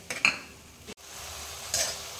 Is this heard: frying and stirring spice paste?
yes